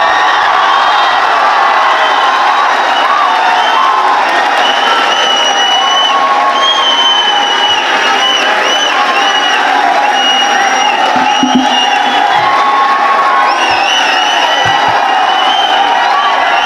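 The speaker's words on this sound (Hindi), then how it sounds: "जोरदार तालियां साथियों, जोरदार तालियां" A large audience at a poetry recitation event claps and cheers loudly and continuously, with whoops and shouts rising over dense, sustained applause.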